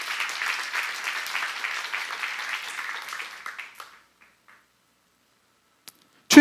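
A church congregation applauds during a sermon, a bright, steady patter of many hands lasting nearly four seconds before dying away into silence, with a sharp close thump at the very end.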